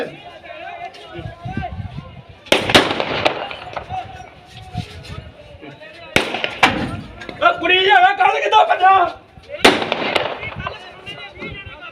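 Sharp, loud bangs from firecrackers or shots crack out in Tarn Taran, three big bursts spaced several seconds apart, amid shouting voices and crowd noise.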